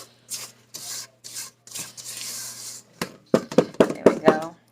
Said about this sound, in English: I'm going to scrape down the edges.